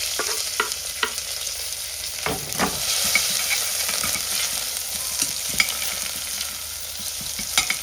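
Garlic, green chili and curry leaves fry in a hot pan with a steady, dense sizzle, broken by sharp spatula scrapes and clinks as the mixture is stirred, close and with no talk.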